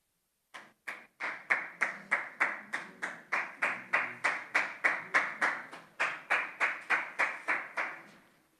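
A single person claps steadily in a quiet committee hearing room: roughly twenty sharp, evenly spaced claps at a moderate pace, close and distinct, with a brief pause midway before stopping.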